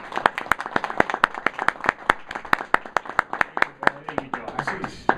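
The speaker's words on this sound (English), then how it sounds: "Please give a big round of applause and welcome to my colleague and friend, Ashish Sitapara." Audience applause on a talk show greeting an arriving guest, a steady run of sharp, close hand claps that holds even and loud before thinning slightly toward the end.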